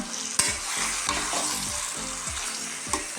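Chicken and potato curry being stirred in a pan, a steady sizzle of frying with regular scraping strokes of a spoon roughly every half second, close and alone, with a couple of sharper clicks against the pan.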